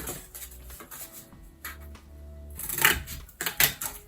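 Scissors or a blade cut through cardboard in a series of close, crisp snips and crunches, growing louder and denser toward the end.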